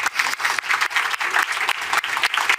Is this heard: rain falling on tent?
no